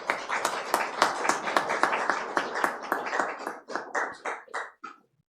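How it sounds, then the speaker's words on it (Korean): A church congregation claps to welcome a newly registered member, a run of distinct, fairly close hand claps in a steady rhythm that thins and slows over five seconds before stopping. "우리가 뜨거운 환영의 박수로"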